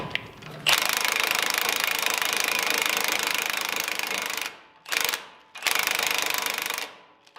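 An impact gun hammering loudly and continuously on a Chevy Silverado or GMC Sierra truck ball joint, then two shorter bursts, close up with no talk.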